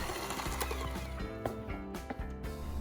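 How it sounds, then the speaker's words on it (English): An electric mixer blends sour cream banana bread batter in a bowl, giving a steady, dense mechanical whir with a rattling texture that holds throughout without pause. "you know the flour is going to go flying with your electric mixer"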